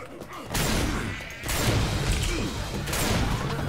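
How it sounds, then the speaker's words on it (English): Rapid bursts of video-game gunfire in Left 4 Dead 2, loud and dense, with a short lull near the start and in the middle, then more sustained shooting. "she's shooting right through there"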